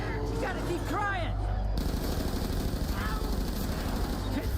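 Machine gun in an online shooter video game, rapid bursts of gunfire rattling continuously at close range under a loud game engine rumble, with someone talking over it.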